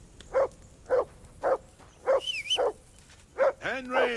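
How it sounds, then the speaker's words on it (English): A dog named Mutt barks in Kingdom Come Deliverance 2, a string of about six evenly spaced woofs at steady volume, followed by a rising whine and a whimper near the end. "Henry, whistle at that mutt of yours to stop barking."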